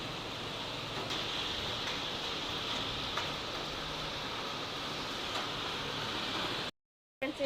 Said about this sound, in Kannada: ಈಗ ಕಾಣ್ಬೋದು ಈಗ ಮಳೆ ಎಷ್ಟು ಬರ್ತಾ ಉಂಟು